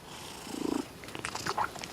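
A cat purrs softly and close by in a workshop, a low steady rumble that swells briefly before fading into faint background noise with a few brief higher sounds.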